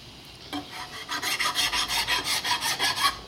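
Rhythmic rasping strokes of a hand file or scraper on metal parts of a 1972 Harley-Davidson XL Ironhead Sportster, about a dozen even back-and-forth passes, close and fairly loud.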